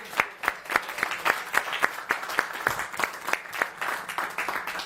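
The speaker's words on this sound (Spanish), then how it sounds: "Denle un aplauso" A church congregation at a live Spanish-language service applauds, sparse, sharp individual hand claps in a loose, uneven rhythm, moderately near and not very dense, lasting a few seconds.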